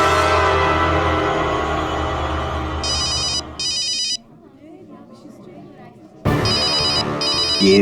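A telephone rings in a dramatic scene, sharp electronic trilling bursts in a repeating pattern, heard in two pairs with a quiet gap between, layered over a loud music-filled background.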